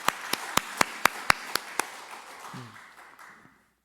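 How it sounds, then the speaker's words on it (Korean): A church congregation at a Sunday worship service claps in unison, about eight evenly spaced sharp claps, then the sound fades into a low murmur and trailing noise before falling silent. "하나님께 영광의 박수 올려드립니다"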